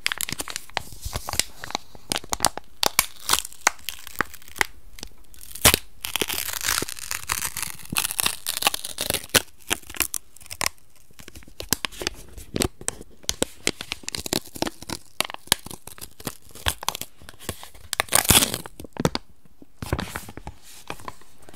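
Continuous close crinkling and tearing of a Star Wars trading card booster pack's foil packaging, with dense crackles and rips throughout for about twenty seconds.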